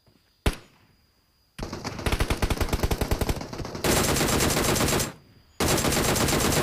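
Automatic gunfire in a competitive battle royale duos match: a single sharp shot, then a rapid rattling burst, followed by two long dense sustained volleys separated by a short pause, loud and close.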